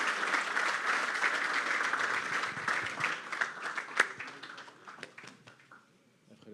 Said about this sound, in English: Applause for GIANNIS SFAIROPOULOS.